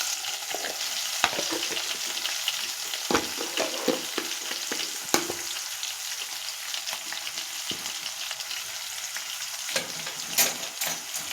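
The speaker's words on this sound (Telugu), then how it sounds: "ఇవన్నీ ఒకసారి బాగా కలుపుకుందాం." Raw prawns with salt frying in a pan, a continuous soft sizzle broken by scattered scraping and clinking stirs, fairly quiet and close, no talking.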